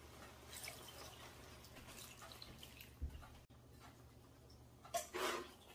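Cooking water from boiled rajma (kidney beans) poured into an Instant Pot, heard as faint drips and a soft liquid splash that swells briefly near the end over a quiet kitchen background.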